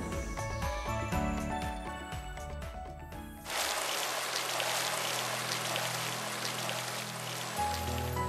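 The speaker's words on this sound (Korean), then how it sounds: "이 물소리를 들을 때마다" Water runs and patters steadily, a bright splashing flow like a stream or pouring over a surface, continuous and moderately close after a brief stretch of other sound at the start.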